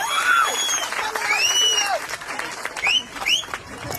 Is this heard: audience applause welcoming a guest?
yes